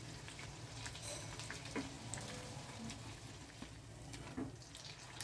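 Bora fritters frying in a pan of oil, a steady soft bubbling sizzle with faint crackles throughout, low and fairly distant.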